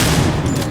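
Shotgun blast in the survival horror game Alien Isolation, a single loud, close, booming report with a dense low-end thump that fills the short moment.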